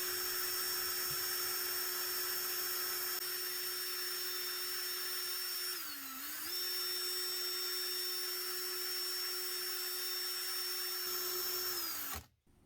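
A power drill fitted with a polishing attachment whines steadily at high speed, polishing wheel bolts of an OZ Monza three-piece wheel, dipping briefly in pitch under load midway, then spinning down and stopping at the end.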